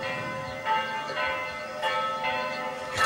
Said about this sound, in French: Écoute, les cloches sont les mêmes.